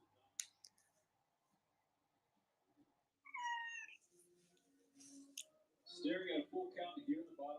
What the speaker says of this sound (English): we have a kitty here that's a screamer